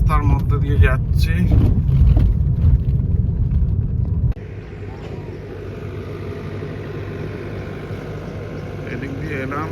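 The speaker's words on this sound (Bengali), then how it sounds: "খুব খারাপ রাস্তার মধ্যে দিয়ে যাচ্ছি।" A car drives along a badly potholed, dusty riverside road in rural West Bengal, giving a heavy, loud low rumble that drops abruptly to a steadier, quieter engine-and-road drone about halfway through.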